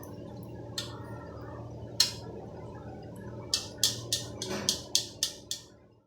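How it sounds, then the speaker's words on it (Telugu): Drops of hot jaggery syrup for peanut chikki fall into water to test the set, making a series of small sharp plops and clicks: a few scattered at first, then a quicker run of about seven close together, over a quiet background hum. "పాకం వచ్చిందని తెలియటానికి మనం నీటిలో వేసుకున్న బెల్లం సౌండ్ రావాలి"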